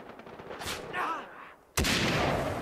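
Gunfire in the video game Far Cry 3: a loud, sharp shot bursts in suddenly partway through and rings out in a dense wash, after a quieter stretch of game ambience and faint effects.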